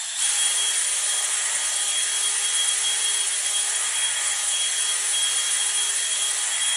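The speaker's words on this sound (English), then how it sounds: "I actually have been cleaning my stuff with a drill these days." A power drill spins a cleaning rod through a rifle barrel, a steady high-pitched whine held loud and constant from start to finish with no talk.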